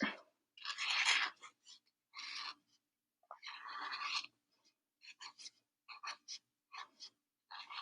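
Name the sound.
drawing an anchor on paper with a blue marker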